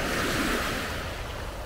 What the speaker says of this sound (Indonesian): Ombak dan pantai ini